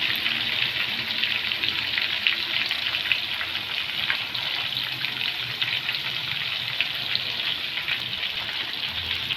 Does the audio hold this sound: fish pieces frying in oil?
yes